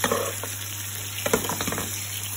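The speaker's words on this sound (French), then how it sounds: "Je prends une cuillère, j'arrose un petit peu." Cauliflower roasting in a pan sizzles while a spoon bastes it with hot fat, giving a steady crackling fry with a few louder spoon clinks and splashes, close and without speech.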